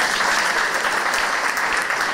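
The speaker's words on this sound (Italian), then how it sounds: "Applauso." A crowd claps steadily and densely for a couple of seconds at a youth competition event, a full room of applause with no voices standing out.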